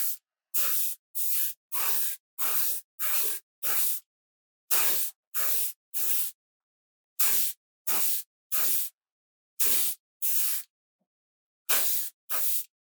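An airbrush sprays very matte varnish in about eighteen short, even bursts of close hiss, each about half a second long, separated by brief silences.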